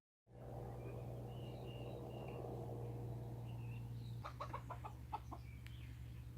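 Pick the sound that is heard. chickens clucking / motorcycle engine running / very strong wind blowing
chickens clucking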